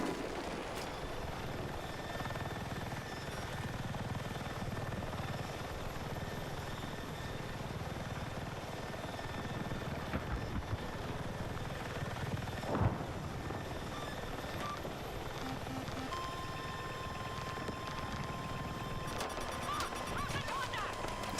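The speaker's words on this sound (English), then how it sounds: "I bet the heli's gonna be up any moment now too." Helicopter in a video game droning steadily at moderate distance for about twenty seconds, a low continuous rotor-like rumble with faint tonal engine whine and occasional game effects, no talk.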